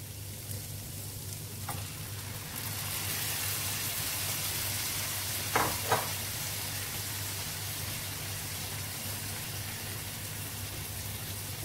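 Tomatoes and meat fry in a pan with a steady, close sizzle that grows louder as the tomatoes go in. A couple of brief clinks from stirring break through, and no one speaks.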